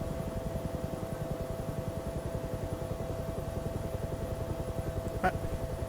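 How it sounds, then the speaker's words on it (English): A Huey helicopter hovers during a sling load demonstration, its steady rapid rotor chop pulsing evenly and continuously, close and moderately loud, with a brief knock near the end. "You want to keep the helicopter as stable as possible."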